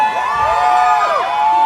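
An outdoor audience at a Hollywood Walk of Fame star ceremony cheers loudly and continuously, with rising whoops and shouts over a dense crowd roar.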